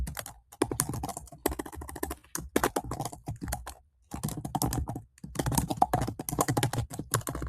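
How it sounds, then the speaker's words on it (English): Computer keyboard typing in steady bursts of rapid clicks, close and clear, with a couple of short pauses between runs. "I'm just typing in some things so you can see more quickly."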